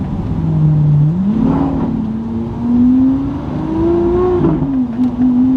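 A supercar engine revs hard in first gear, its steady droning note climbing and falling in pitch as the driver holds it around four to five thousand rpm, loud and close from inside the cabin, no talk.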